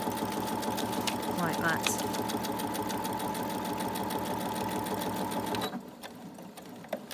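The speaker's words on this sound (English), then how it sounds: "go in and stitch my flap down first" A sewing machine stitches down a glued paper envelope flap, a fast steady mechanical whirring rattle running close and loud before stopping near the end, with brief speech over it.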